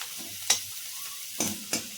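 Onion and garlic fry in a pan until reddish for homemade cabbage manchurian; a faint oil sizzle runs underneath while three sharp, close spatula scrapes and clicks punctuate it.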